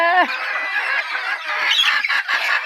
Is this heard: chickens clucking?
yes